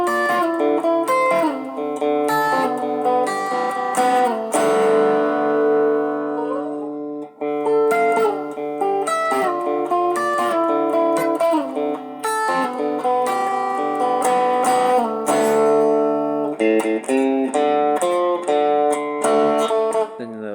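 A 12-string acoustic guitar rings through the intro of a song, strummed chords and shimmering picked notes sustaining loud and close, with no one speaking.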